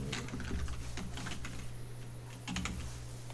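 Computer keyboard typing CAD commands while drafting a 2D injection mould design, a quick run of close key clicks in bursts with a short pause, over a steady low hum.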